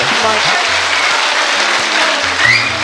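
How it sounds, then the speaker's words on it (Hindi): Loud, dense audience applause fills a Hindi-Urdu poetry mushaira and kavi sammelan in Ghaziabad, steady throughout, with a voice calling out over the clapping. "मैं चाहता हूँ एक बार जोरदार तालियों से आप अपनी मौजूदगी दर्ज कराइए"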